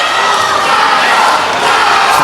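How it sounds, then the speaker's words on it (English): A crowd roaring and cheering at an ICE FC mixed martial arts fight, a dense, loud, continuous wall of shouting that holds steady throughout. "the crowd erupts"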